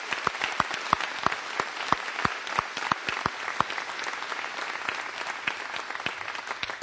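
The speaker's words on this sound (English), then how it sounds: "Let's give Fox Valley Metal Tech a big round of applause for hosting us here today." A crowd at a budget signing event hosted at a metal fabrication company claps, with a thick bed of applause punctuated by sharp, close individual claps standing out above the rest throughout.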